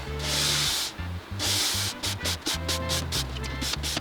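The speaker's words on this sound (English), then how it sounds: "We are going to start this with a brass brush, and I'm going to flip this thing around because I want to brush it nose to tail" A brass brush scrubs a snowboard base from nose to tail in long rhythmic hissing strokes, with bursts and pauses between passes, loud and close, with no talking.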